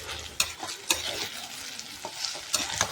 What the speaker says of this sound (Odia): ପିଆଜ ସଣ୍ଡା ଆମର ସୁନ୍ଦର ଭାବେ ଭାଜି ହେଇଗଲାଣି।